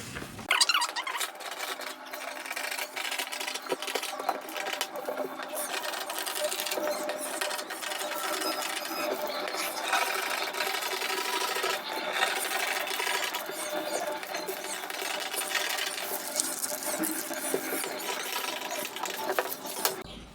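Scissors cutting fabric for the back piece of a blouse, a long run of steady crisp snipping and crunching close by, with no talking.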